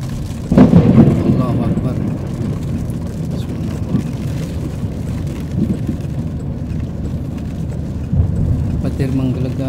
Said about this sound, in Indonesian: Petir menggelegar ya kalau hujan di sini seperti ini